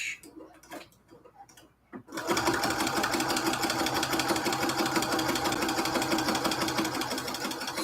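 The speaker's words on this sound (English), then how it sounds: "Let's back stitch." Sewing machine back stitching quilt curtains, starting after a few quiet handling sounds and running loud and close in a fast, steady mechanical rattle for the rest of the clip.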